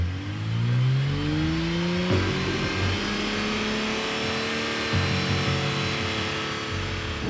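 Car engine revved and held at 4,500 rpm for a roadside noise-limit test, a loud sustained roar with rising then steady pitch and a brief surge partway through, alone without talk.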